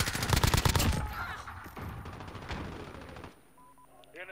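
Automatic gunfire from the video game Modern Warfare: loud rapid bursts in the first second, then continued shots and game noise that fade into quieter in-game sounds.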